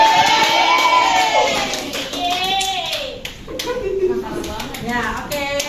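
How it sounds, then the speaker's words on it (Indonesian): A classroom of children claps and cheers together during a lesson, with shouts and voices mixed into the steady applause that holds at a loud level throughout. "tepuk tangan"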